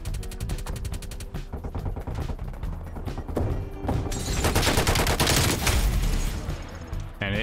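An MG-82 machine gun in Call of Duty: Cold War fires in rapid, evenly spaced bursts at a slow cyclic rate, with louder crashing gunfire and explosions toward the end.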